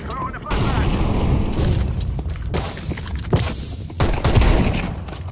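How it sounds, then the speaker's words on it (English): A flashbang grenade thrown during a Counter-Strike 2 match, heard as loud, dense bursts and booms with gunfire-like crackle throughout, close and harsh, with a voice faintly under the noise. "Throwing a flashbang."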